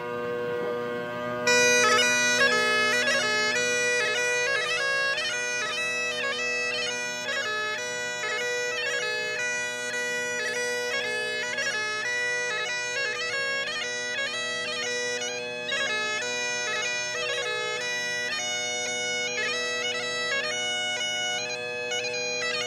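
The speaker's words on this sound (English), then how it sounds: "I could listen to the bagpipes all day." Bagpipes play a steady traditional Scottish tune with a constant drone beneath a bright, ornamented melody, accompanying a Highland fling dance at a Highland Games event; loud and continuous with no talking.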